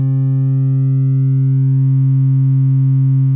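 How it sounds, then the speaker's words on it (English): A distorted sine wave from a DIY JFET synthesizer circuit holds a loud, steady, buzzy tone with rich overtones at an unchanging pitch for the full few seconds, alone with no voices. "This is much closer to the original sine wave, but still pretty distorted."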